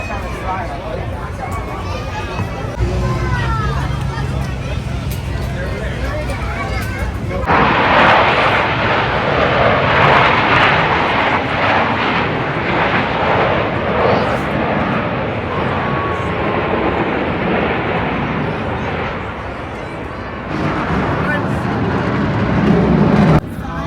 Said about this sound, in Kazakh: Парашюттар секіретін самолет.